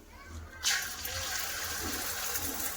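Egg hitting smoking-hot mustard oil in a pan, a sudden loud burst of hissing sizzle that settles into a steady, close crackling fry.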